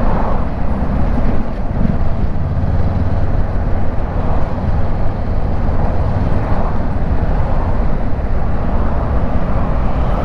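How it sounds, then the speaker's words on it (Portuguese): A Honda CB500X motorcycle with its original exhaust rides through city traffic in Jaboatão dos Guararapes. A loud, continuous low engine drone sits under heavy wind buffeting, with no talking. "Uma das coisas que eu gostei nela é o som encorpado do escape."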